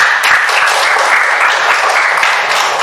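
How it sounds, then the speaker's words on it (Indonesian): Steady applause from a class audience after a group presentation, dense and sustained throughout with no pauses. "Kasih tepuk tangannya untuk kelompok ini."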